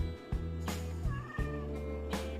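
A cat meows and chatters at birds in a series of close, strained calls with short pauses between them. No one talks over it.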